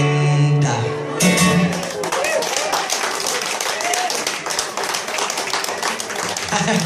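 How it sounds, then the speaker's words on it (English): Audience applause at a pub gig in the Globe Inn, Exeter: a crowd's round of clapping starts after a held music chord, steady and fairly close throughout, with talk mixed in. "It's hard to convey a patronising round of applause, but I think you managed that very well"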